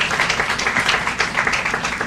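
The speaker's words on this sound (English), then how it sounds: "Can we give them a round of applause?" A seated audience at a Suitland, Maryland city event applauds honored community members, with steady, dense clapping running through the whole short stretch.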